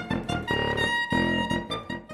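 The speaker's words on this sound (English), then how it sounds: "take this piped instrument called a soprano pipe that is short in" A bright, high-pitched short soprano pipe plays a short run of separate notes, clear and close, with no talking.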